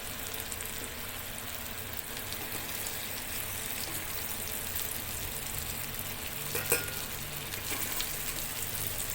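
Stuffed brinjals frying in oil in a covered pan, a soft continuous crackling sizzle at moderate distance with one brief clatter partway through.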